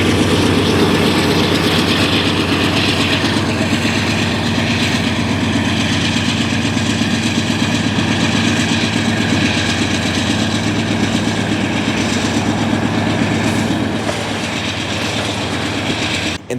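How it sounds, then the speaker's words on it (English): A mid-train DPU locomotive working hard chugs steadily past close by at a rail yard, its loud, continuous engine drone joined by rolling wheel noise that holds for the whole stretch. "a mid-train DPU that is working a lot harder chugs right by me"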